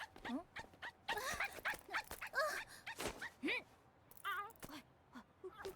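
An anime dog, a Pomeranian in Gundam GQuuuuuuX, gives a series of close, high, yappy barks and whimpering yips in quick irregular bursts, with quiet voices between them.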